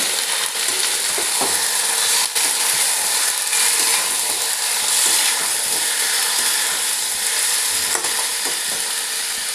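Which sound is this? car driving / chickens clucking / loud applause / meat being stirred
meat being stirred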